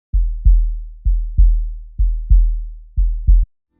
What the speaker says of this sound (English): put those in there to kind of sound like heartbeat while they're running in